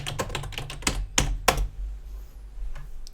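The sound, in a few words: typing on a computer keyboard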